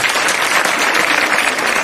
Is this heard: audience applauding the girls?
yes